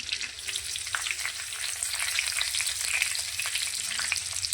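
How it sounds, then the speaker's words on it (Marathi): Curry leaves and finely chopped garlic fry in hot oil for a spicy Maharashtrian matki usal base, giving a steady, dense crackling sizzle with scattered sharp pops, close and even throughout, with no talking. "हे सर्व चांगलं फ्राय करून घेऊया।"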